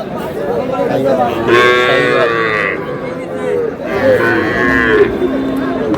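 A young bull calf moos twice, each call drawn out and nasal, with a pause between, over a murmur of background chatter.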